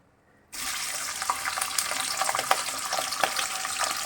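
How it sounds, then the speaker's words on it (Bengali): Chicken pieces hit hot oil with a sudden loud sizzle, and the dense frying crackle then carries on steadily, close and alone, while they cook for chicken malai curry. "এবারে আমার এই যে তেলটা আমার গরম হয়ে গেল তেলটা আমার গরম হয়ে গেল এবারে আমি চিকেন চিকেনগুলো একটু ভেজে নিচ্ছি"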